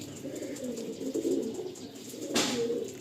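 Soft, low cooing from a pair of red-headed Andhra pigeons close by, a murmuring rumble with a brief rustle or flutter near the end.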